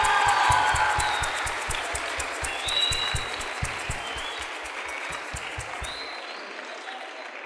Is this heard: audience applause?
yes